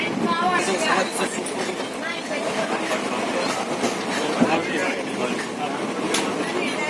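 A train rumbles steadily along the rails with rhythmic clattering and occasional squeals, heard from inside among background voices.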